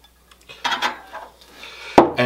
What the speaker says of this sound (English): And just give this a stir until it's completely combined.